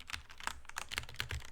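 Keys clack on a Mountain Everest Max RGB gaming keyboard in a quick, uneven run of distinct presses, close up but quiet.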